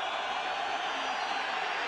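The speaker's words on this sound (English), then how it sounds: "Loud crowd breathing down Andy Dalton's back." A loud football stadium crowd roars steadily at a Utah versus TCU college game, a broad sustained wash of cheering noise with no breaks.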